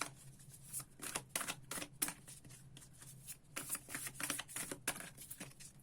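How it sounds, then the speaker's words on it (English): Tarot cards shuffled by hand during a reading, a rapid series of crisp riffling bursts and soft slaps, close and fairly quiet, with no talk over them. "Okay, I'm gonna shuffle until we get a card,"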